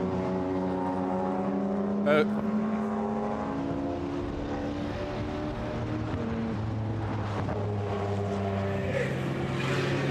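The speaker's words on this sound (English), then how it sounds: "it's the first of the white Porsches that's coming past you, Bruce." A white Porsche GT1 race car passing at Goodwood, its engine drone holding steady then shifting pitch as it goes by, heard close and loud with a short sharp burst near the start and people talking over it.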